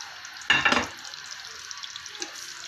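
Fried pakoras drop into a pot of long-simmering karhi with one brief burst of splashing and stirring noise, followed by a quiet, steady bubbling hiss with no talking.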